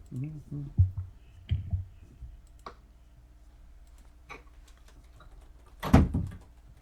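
A door is shut indoors with a single sharp, loud thud near the end, after some quieter clicks and knocks while people talk in the background.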